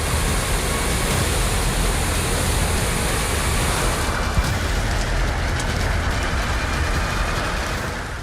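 The Rispana river in Dehradun rushes in full spate, a dense, continuous roar of fast floodwater that stays steady and loud throughout, with no voices.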